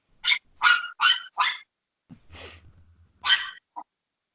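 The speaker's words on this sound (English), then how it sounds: "Is that a dog?" A dog barks in four sharp, loud bursts, followed by a lower growl and one more bark with a short yip, all close by in an otherwise quiet indoor setting.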